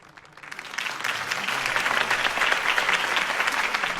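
Crowd applause after a campaign speech in the video game Batman: The Telltale Series, swelling from quiet within the first half second into a dense, sustained clapping that stays loud and steady to the end.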